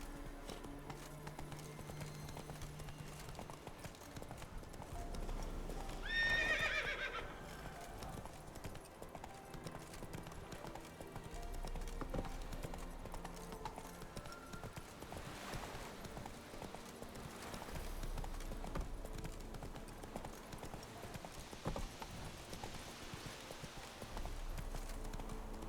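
Horse hooves gallop in The Witcher 3, a steady clip-clop rhythm running through the whole stretch under game music and ambience, with a brief whinny-like burst near the start.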